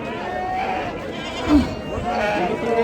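Sheep bleat at a busy goat and sheep market in Chakan, with people talking throughout over constant crowd noise; one louder, nearer bleat stands out midway.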